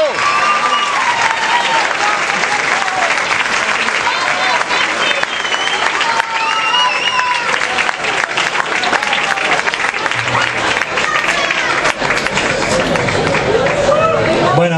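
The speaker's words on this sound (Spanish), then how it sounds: "Un fuerte aplauso." Loud, sustained applause from a large audience at a graduation concert, a dense wall of clapping that fills the hall for the whole stretch, with faint crowd murmur underneath.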